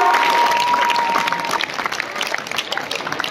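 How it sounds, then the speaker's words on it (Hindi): Loud, sustained clapping from a school audience at a farewell ceremony for tenth-grade students at an Urdu school in Malegaon, dense and continuous, slowly thinning toward the end. "खूब जोर से ताली बजाएंगे"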